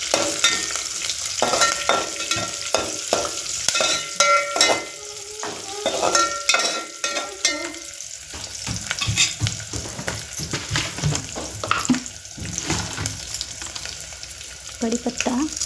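Turmeric, a whole chili and spices sizzling in a pan for masale bhat while a spoon stirs, with uneven bursts of crackling and clinks of utensil against metal.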